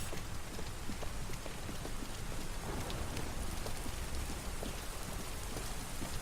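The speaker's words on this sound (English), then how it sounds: "it must be constant rain in Detroit in 2038." Steady in-game rain from the video game Detroit: Become Human, set in Detroit in 2038, falls continuously, a dense hiss with scattered drops pattering on surfaces, fairly faint, with no voices.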